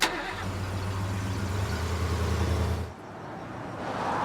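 A car engine runs steadily at a low, even hum up close, then the tone drops and settles as the vehicle slows toward a stop.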